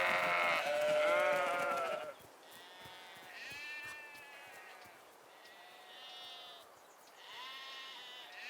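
A loud sheep bleat up close, followed by several fainter bleats from other animals farther off, overlapping in a flock.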